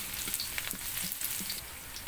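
Garlic sizzling in hot oil as it is stirred in a pan, a close, dense crackle with a few quick scraping strokes over about two seconds.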